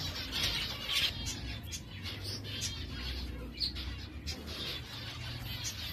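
A male zebra finch with a broken wing feather gives a few faint, scattered chirps against a noisy, hissing background, with no talking.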